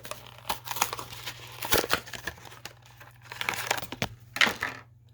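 Crinkling and tearing of Matchbox toy car card packaging as it is opened, coming in close, irregular bursts of crackle and rip over a low steady hum, with no talk.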